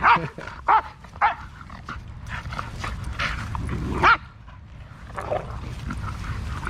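Two aggressive dogs bark and snarl while fighting, with sharp loud barks at the start and again midway, then rough growling and scuffling in between, close by.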